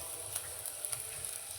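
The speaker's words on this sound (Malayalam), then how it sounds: "നമുക്ക് ഒരു സവാള ഇട്ട് കൊടുക്കാം" Garlic, green chilli and ginger sizzle steadily in a pan as onion is added, a soft continuous fry with a few faint clicks and stirs, fairly quiet and with no talking.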